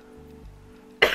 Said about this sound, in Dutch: Sorry als ik trouwens een beetje hoest nog en zo.